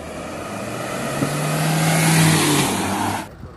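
Range Rover and Mahindra Scorpio in a drag race: a loud engine roar that builds and rises in pitch as the vehicles accelerate, peaks near the middle, then cuts off abruptly.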